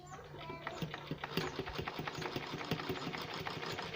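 A sewing machine top stitches fabric for nightwear with a fast, even run of mechanical stitching thumps under a low motor hum, close and steady for several seconds.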